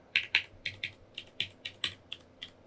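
Keys on a computer keyboard are pressed one at a time in an uneven sequence of about a dozen crisp clicks, close and distinct with brief pauses between them.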